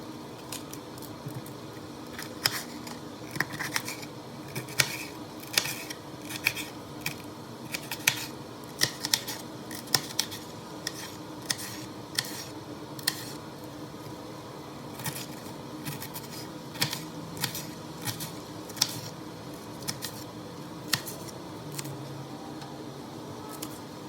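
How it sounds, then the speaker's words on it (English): A knife chops green pepper and other vegetables on a board, a long series of close, crisp irregular taps over faint steady background hum. "So now I'm going to start on cutting those veggies so I can add them in."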